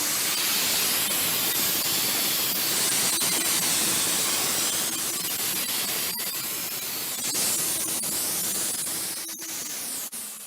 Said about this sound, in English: Let's check the spray pattern.